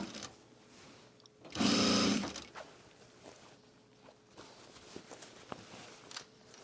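A sewing machine stitches a garment duffle bag in one loud, steady burst of about a second, then stops, leaving quiet handling noises and faint taps.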